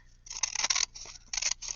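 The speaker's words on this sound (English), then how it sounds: "I guess I can use my scissors." Scissors snip through paper while making faux envelope pockets, in quick bursts of several crisp close-up cuts with short pauses between them, with no voices.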